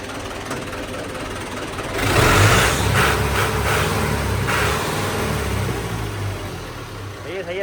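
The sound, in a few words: tractor engine revving at workshop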